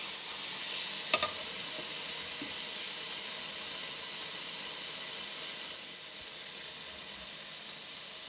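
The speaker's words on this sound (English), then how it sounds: "crackling, sizzling sound." Steady, fairly quiet sizzling of steak frying in a pan on an AGA cooker, with occasional small crackles and pops over a continuous hiss.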